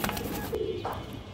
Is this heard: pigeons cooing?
yes